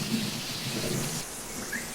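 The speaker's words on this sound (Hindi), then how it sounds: "बारिश बहुत तेज़ है" Heavy rain pours in a dense, steady hiss with a low rumbling undertone, continuous and fairly loud throughout, with no voices.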